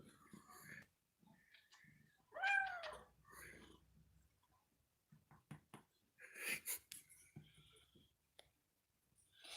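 A pet cat gives a few short, close meows and snorting breaths while having its belly scratched, with quiet handling clicks and soft talking in between.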